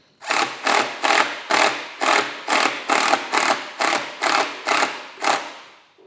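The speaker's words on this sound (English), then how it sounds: "Now I'm just going to use an impact driver to start the screws" An impact driver starts screws for boat trim tabs on a trailer boat, firing about eleven loud, close, evenly spaced whirring bursts in a steady rhythm, with short gaps between them.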